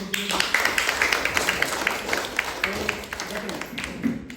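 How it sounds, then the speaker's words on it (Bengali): A small group claps for a woman at an incense-stick making training session, a brisk run of close hand claps that tapers off, with a voice talking over the clapping. "আচ্ছা সবাই ওর জন্য একটা হাততালি"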